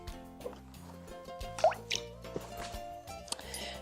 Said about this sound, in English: So next I'm going to go ahead and add the water.